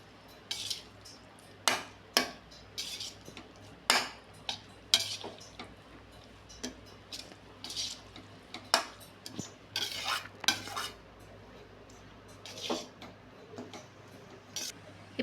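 Tamarind rice (puliyodharai) mixed with roasted spice powder in a vessel, heard as irregular metallic spoon scrapes and clinks against the pot, close but fairly quiet, with a faint low hum beneath and no talk.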